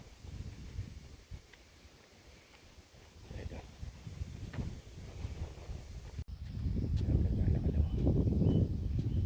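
Wind buffets the microphone in rough gusts on a bypass road, growing stronger and louder in the second half, with faint rustling of trees underneath.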